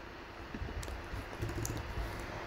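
Keys tapped on a computer keyboard in quick, irregular bursts, soft and close in a quiet room, with no voices.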